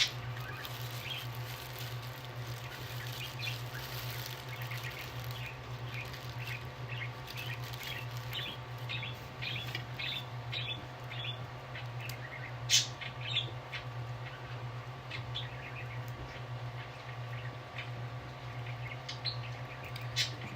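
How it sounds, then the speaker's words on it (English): A pet bird chirps indoors in a series of short, bright tweets and squawks scattered throughout, fairly faint and set against a constant low electrical hum. "Yeah, I got a new bird."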